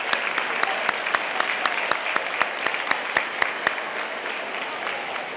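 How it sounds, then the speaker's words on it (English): Audience applause for the food service staff at a school convocation comes as a sustained patter of clapping, with a few sharp, distinct claps standing out from the crowd and then fading slightly near the end. "I do want to give a round of applause to Lori Paul and the food service staff for"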